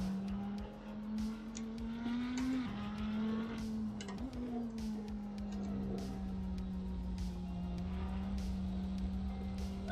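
A GT3 race car engine in Assetto Corsa holds a steady, droning tone with brief pitch rises at gear changes, while faint clicks and background noise sit underneath and no voices are heard.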